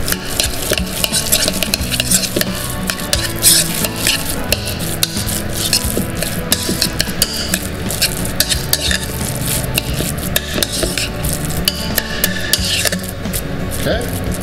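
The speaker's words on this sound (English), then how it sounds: "Then we give this a mix." Spicy ahi poke being stirred with togarashi in a bowl, a steady, close, wet scraping and clinking of utensil against bowl that continues throughout, with faint talk underneath.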